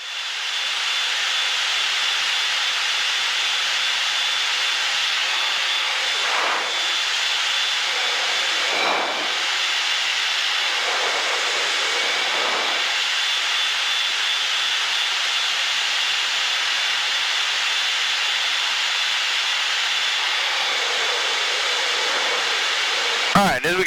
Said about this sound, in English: as we get rolled out here, we'll plug max afterburner